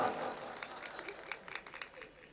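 Audience at a Faizabad mushaira clapping in scattered, moderately faint bursts, a loose crowd applause with some voices mixed in.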